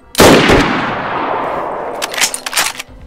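A sharp, loud gunshot in the winter Chernarus map of the video game DayZ rings out and decays, followed by a cluster of quieter, crackling distant shots near the end.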